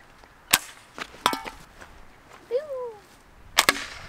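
Slingshot rifle shots striking an outdoor target: several sharp, woody cracks spaced irregularly over a few seconds, loud and close, with brief excited voices in between.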